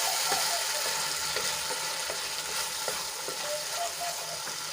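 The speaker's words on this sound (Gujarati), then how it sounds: "તો હવે એમાં આપણે મસાલા એડ કરી લઈશું" Spices going into tomato and oil frying in a pan for a dry val bean curry: a steady sizzle with light stirring scrapes scattered through, no voices.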